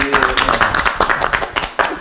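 Hand clapping from a small group at an informal gathering, a quick run of bright claps over about two seconds, mixed with voices talking and cheering.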